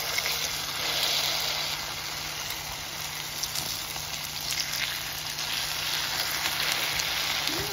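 Hot water cornbread patties fry steadily in a pan, a continuous, even crackling sizzle close by with fine popping spatter and no talking over it.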